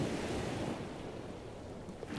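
Ocean waves wash softly in the shallows on a hot, sunny day with a breeze, a faint, steady surf hiss with light wind and no voices.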